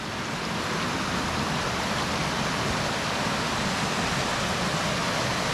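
A natural waterfall in Utah roars in a constant, broadband rush of falling water. It is loud, unbroken and close.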